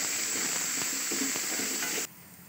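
Small shallots sautéed in a hot pan, a loud close sizzle with a few scraping stirs that cuts abruptly much quieter near the end, no voices.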